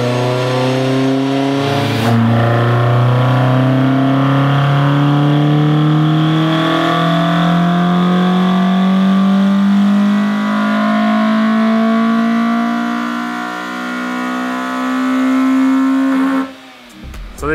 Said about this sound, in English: I just did a dyno pull with the road tune that I made